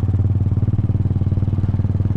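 An old Kawasaki Binter Merzy motorcycle engine idles while warming up, a loud, close, steady low putter with an even, rapid pulsing rhythm and nothing else heard.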